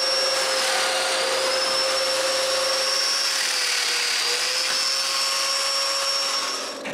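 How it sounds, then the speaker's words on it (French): A power tool cuts angled mortises into wood in a workshop, a steady high-pitched motor whine holding constant throughout with no talk. "Je perce donc des mortaises en angle."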